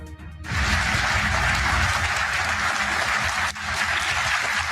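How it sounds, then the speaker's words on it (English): A large crowd bursts into loud, sustained applause, a dense steady roar of clapping that fills the space with a brief dip near the end. "Donald Trump is literally drowning in applause."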